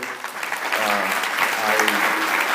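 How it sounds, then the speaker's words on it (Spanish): Church congregation applauding at a Spanish-language service, loud sustained clapping from many hands with a few faint voices mixed underneath. "les pido que le demos un aplauso"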